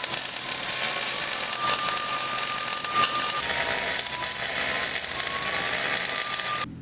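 A power tool cuts a chunk of scrap metal down to size, to be welded on as a reinforcing plate at a diesel truck's front shock mount. The cutting runs steady, loud and close, a harsh grinding whine with no talking.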